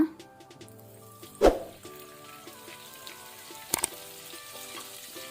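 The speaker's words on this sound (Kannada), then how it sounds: "ಪಾತ್ರೆ ಬಿಸಿಗಿಟ್ಟಿದ್ದೇನೆ. ಸ್ವಲ್ಪ ಎಣ್ಣೆ ಹಾಕೋಣ. ಸ್ವಲ್ಪ ಎಣ್ಣೆ, ಆನಂತರ 1 ಟೇಬಲ್ ಸ್ಪೂನ್ ಅಷ್ಟು ಬೆಣ್ಣೆ ಬಟರ್ ಹಾಕೋಣ." Oil and a tablespoon of butter sizzling in a hot pan, a soft steady crackle under a faint droning background, broken by two sharp clattering knocks of utensils against the pan.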